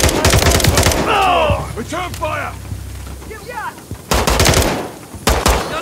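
Heavy automatic gunfire and rapid bursts in a Call of Duty: Modern Warfare III firefight at Verdansk Stadium, loud and close, cutting out midway and then returning, with a shouted voice over the shooting.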